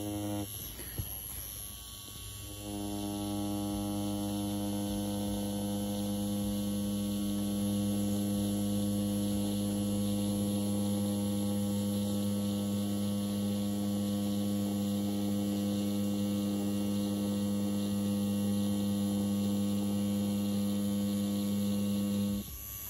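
BRONC wireless Hummingbird rotary tattoo machine switching on and running with a steady electric hum and faint buzz, close and even for about twenty seconds with no talking.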